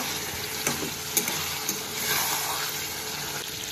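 Spice paste for a katla fish curry sizzles and crackles in hot oil, a continuous bright frying hiss with occasional stirring knocks and no talking.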